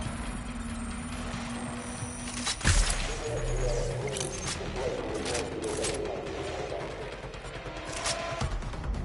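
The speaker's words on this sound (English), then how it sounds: "I hear gunshots." Rapid bursts of gunfire crackle over a dense, rumbling background in the video game Watch Dogs: Legion, with one loud sharp shot standing out early and scattered pops continuing throughout.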